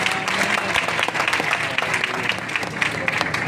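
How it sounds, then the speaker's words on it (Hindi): Audience applause fills the hall as a crowd claps steadily and densely at a Haryana gathering, with the crowd's noise continuous throughout. "जोर से इनके लिए ताड़ियाँ लगा दीजिए"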